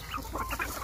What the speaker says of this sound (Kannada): ನೋಡಿ ನಮ್ಮ ಈ ತಳಿ ಬಂದು ಎಲ್ಲ ಪ್ಯೂರ್ ದೇಸಿ ಪ್ಯೂರ್ ನಾಟಿ ಕೋಳಿ